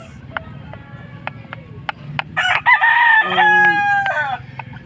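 Two-month-old chickens on a small home flock, several sharp clucks followed by a loud, close rooster-style crow with long drawn-out calls rising over soft background murmur.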